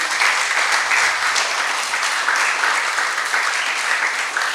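A church congregation claps together in a loud, continuous round of applause, even and unbroken from start to finish.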